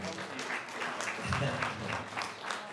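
Audience applause at a Freeman of the City award event, a short patch of crowd clapping with a faint voice or murmur underneath, moderately loud and steady throughout.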